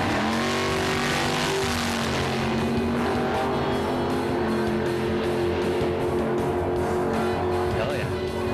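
A Super Gas Corvette drag race car engine runs loud and close, holding a rough, throaty rumble with steady tones. There is talk or commentary over it.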